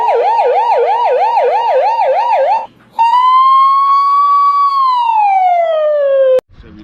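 A voice imitates a police siren, first a rapid warbling wail, then a long rising and falling whoop, loud and close, ending abruptly.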